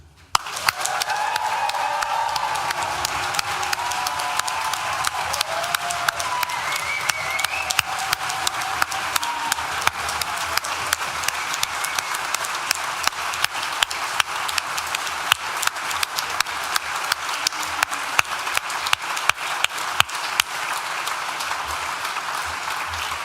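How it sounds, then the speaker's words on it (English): Sustained loud applause from a graduation ceremony hall at Nottingham Business School, dense clapping with scattered cheers and whoops and thumping foot stamps, continuing throughout from a large crowd. "I want you to stamp and shout and cheer and holler as loud as you can"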